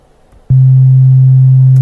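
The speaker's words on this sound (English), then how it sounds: "The first waveform we see is a sine wave" A pure sine wave tone from the LMMS Triple Oscillator synthesizer starts abruptly and holds loud and perfectly steady, a smooth low hum with no overtones until it cuts off.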